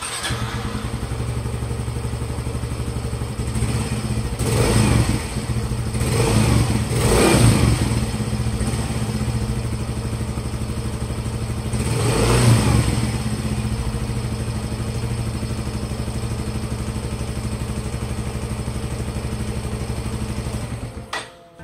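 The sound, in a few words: Yamaha Mio Soul GT 125 scooter engine running after oil change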